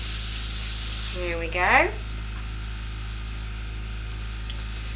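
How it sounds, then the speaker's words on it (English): An airbrush hisses steadily as it sprays colour onto a dragon handbag cake, a constant fine airy spray under a steady background hum, briefly interrupted while a person speaks a few words. "So we'll just get this airbrushed up."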